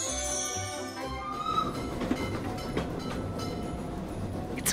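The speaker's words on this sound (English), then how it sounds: "Chugga chugga choo choo. That sound means the candy cane train is about to make a toy delivery for us to test." A candy cane toy train sound effect rolls with steady train rumble and rail clatter, a brief rising whistle-like tone near the start, moderately loud and without voices.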